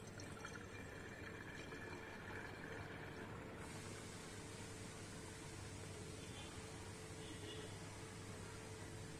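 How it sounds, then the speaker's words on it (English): Homemade rice wine poured into a glass wine bottle, a soft continuous liquid stream that brightens and rises in tone partway through as the bottle fills, with no voices. "Now the final step is to pour the wine into the wine bottle."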